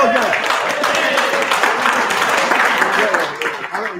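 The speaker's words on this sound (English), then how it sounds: "Round of applause for those guys." Applause from an audience at a youth sports series championship awards ceremony as winners come up for plaques, steady clapping throughout with voices talking over it.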